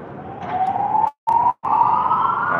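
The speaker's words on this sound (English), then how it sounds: "somebody pull a fire alarm on" A loud fire alarm siren wails with a rising electronic tone, cutting out twice briefly before resuming, with no voices.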